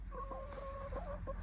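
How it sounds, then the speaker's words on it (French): Small hens cluck softly and continuously nearby, a run of quiet pitched clucks and murmurs over a low steady background rumble. "Accompagné des petites poules."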